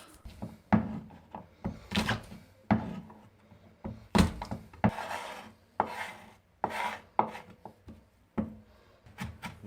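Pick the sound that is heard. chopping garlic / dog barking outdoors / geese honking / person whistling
chopping garlic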